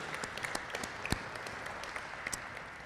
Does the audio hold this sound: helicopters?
no